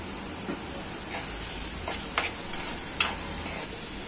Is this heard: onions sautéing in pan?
yes